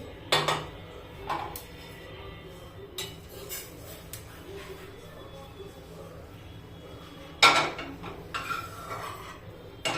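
Dishes and utensils clink in a kitchen as roasted sesame is moved into a dish, several sharp metallic knocks and scrapes spaced apart over quiet background.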